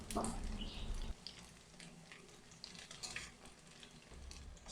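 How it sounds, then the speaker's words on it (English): Quiet sizzling of tofu frying in a pan, with occasional stirring scrapes and clinks, steady crackle under low background noise. "when we're done frying up our tofu"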